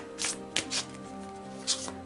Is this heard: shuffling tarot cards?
yes